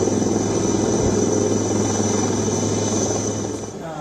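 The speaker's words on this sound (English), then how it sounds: "This is what they will be flying today. The ALH Mark III helicopter." ALH Mark III helicopter taking off under air traffic control clearance, a loud steady whine and rotor drone with a constant high engine tone, easing slightly near the end, no voices.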